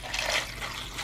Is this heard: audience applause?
no